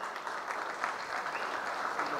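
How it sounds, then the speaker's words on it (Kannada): A crowd gives steady, loud applause for a team jersey designer at a Dr Raj Cup 2022 cricket team event, with dense, continuous clapping close by and no break. "ಜರ್ಸಿ ಡಿಸೈನ್ ಮಾಡಿದವ್ರಿಗೆ ಒಂದ್ಸಲ ಜೋರಾಗಿ ಚಪ್ಪಾಳೆ"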